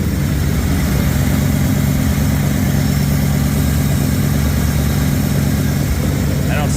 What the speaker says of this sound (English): you can hear the engine. It's so quiet.